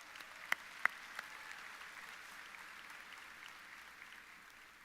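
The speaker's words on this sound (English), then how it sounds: "Yeah, you can clap." Faint, distant applause from a high school graduation audience, a soft steady patter of many hands with a few sharper nearby claps early on, heard from afar in a large hall.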